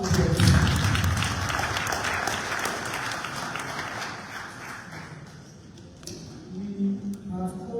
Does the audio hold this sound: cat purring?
no